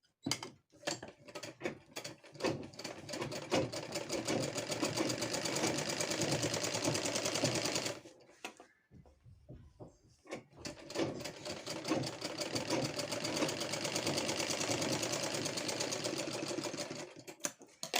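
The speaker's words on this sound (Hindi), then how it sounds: "टॉप स्टिच लेने के बाद फैब्रिक को हम फोल्ड करके एक अनदर स्टिच और ले लेंगे।" A sewing machine stitches folded chequered fabric for a kurti, running in a rapid, close, loud mechanical patter with short bursts at the start, a brief pause midway, then a long steady run.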